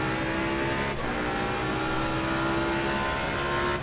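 Race car engine in the racing game Assetto Corsa Competizione, a loud, steady, high-revving drone held throughout with no talk.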